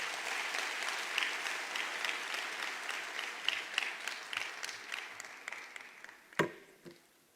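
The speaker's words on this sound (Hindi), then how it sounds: "जोरदार तालियां होनी चाहिए सर के लिए।" Applause from an audience at a motivational speech thins out into scattered, separate claps, ending with a few louder isolated claps and a sharp thump near the close.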